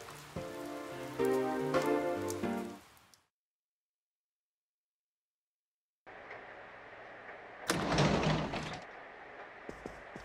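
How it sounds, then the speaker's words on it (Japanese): Rain falls in the video game Persona 4 Golden: steady hiss under tonal game music, a few seconds of total silence, then the rain returns with a brief louder burst. "幸いこの雨、今日も夜まで降り続くみたいだ。"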